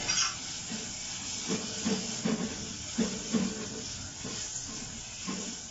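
Tomatoes and green chillies hitting hot frying masala in a pan for aloo pakora curry, a steady hiss of sizzling with a few soft bumps and clatters from the pan.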